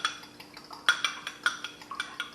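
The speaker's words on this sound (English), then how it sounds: "I'm noticing as I'm beating up this egg that it's thicker" A fork beats an egg in a bowl in a home kitchen, giving quick repeated clinks and scrapes in an uneven rhythm, close and moderately quiet.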